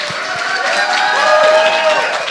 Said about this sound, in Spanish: Hoy un aplauso más fuerte.